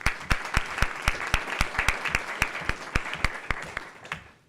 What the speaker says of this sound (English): I'll ask the room for a round of applause for both Brenda and Malcolm.